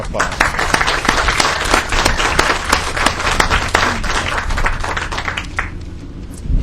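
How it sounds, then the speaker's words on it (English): An audience at a groundbreaking ceremony applauds, dense overlapping claps sustained for several seconds before thinning out toward the end. "give them a quick round of applause"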